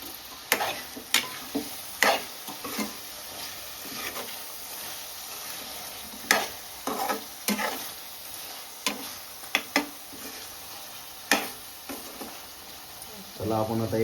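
Food being stirred and fried in a pan, with a steady low sizzle and a series of sharp scraping clicks from the spoon striking the pan at irregular intervals, close up.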